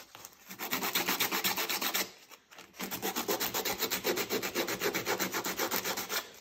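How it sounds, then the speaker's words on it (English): Steady rasping scrape of thick sandpaper rubbed by hand over a damaged chainsaw cylinder to smooth out grooves, a close, loud, continuous rhythmic rubbing that stops briefly midway before resuming. "All right, so I'm getting there with the thicker sandpaper. I've gotten a lot of the little grooves out."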